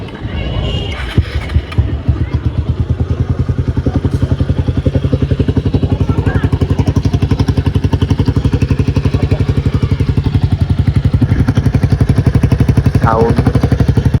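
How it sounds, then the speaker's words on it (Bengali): A Bajaj Pulsar P150 motorcycle with an Akrapovic silencer fitted with a dB killer starting up and idling close by, a loud rapid steady exhaust burble after a few initial clanks, with faint background noise. "আপনাদেরকে এক্সস্টের সাউন্ড শোনাই।"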